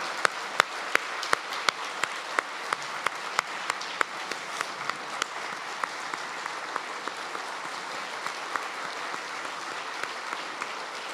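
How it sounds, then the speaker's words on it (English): Audience applause after a talk on global security, steady clapping from a seated crowd with a few sharp, distinct claps standing out near the front, sustained and moderately quiet throughout. "I'd like to ask for another round of applause for Dr. Fiona Hill and Stan."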